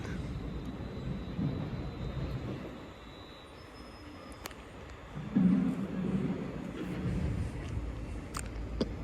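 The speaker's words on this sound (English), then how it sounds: "Arriving in now is the 12:47 Avanti West Coast service to Edinburgh Waverley" An Avanti West Coast train pulls into a station platform with a low, steady rumble and rolling noise, faint and distant, with a brief swell midway.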